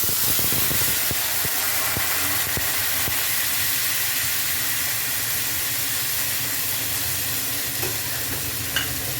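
Tomato and ginger paste dropped into hot oil with bay leaf tempering hisses loudly into a dense, steady broadband sizzle, with a few scrapes and clicks early on, close up and continuous, no talking.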